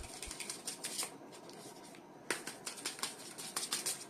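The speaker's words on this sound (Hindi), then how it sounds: "यहाँ मैं कार्ड को शफल कर रही हूँ" A deck of tarot cards shuffled by hand makes quiet, rapid riffling and flicking bursts, pausing briefly midway before a second run of shuffling.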